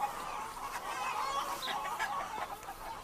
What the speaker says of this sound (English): the chickens scratch through the cow patties, eat out the fly larvae